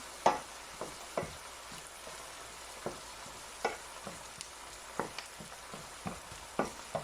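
Chicken breast frying in a pan for a chicken pasta dish, a faint steady sizzle with scattered soft clicks and stirring taps, no voices.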